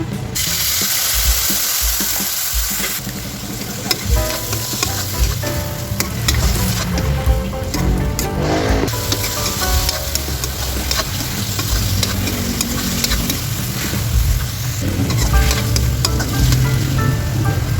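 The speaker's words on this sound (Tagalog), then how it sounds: "Kaya ilalagay na natin itong minarinate nating atay ng" Marinated pork liver sizzles and spits in hot oil, with steady loud frying crackle throughout and occasional scraping and stirring noises from a utensil in the pan.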